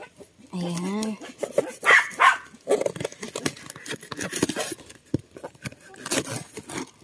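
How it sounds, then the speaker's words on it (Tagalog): A household dog barks in bursts, with sharp yaps and yips scattered across the clip, while a person talks nearby and some handling noises are heard. "maingay yung aso namin"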